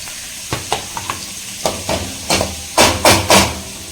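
Onions sauté with salt in a hot pan, an ongoing sizzle punctuated by a series of sharp spatula strikes and scrapes that grow louder and more frequent toward the end, close up, no talking.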